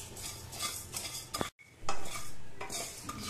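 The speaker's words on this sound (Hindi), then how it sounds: "जीरा को भी हम आधा मिनट धनिया के साथ भून लेंगे" Cumin and coriander seeds being dry-roasted in a pan and stirred with a metal spoon, giving a scratchy, rattling scrape close by, broken by a brief silent gap partway through.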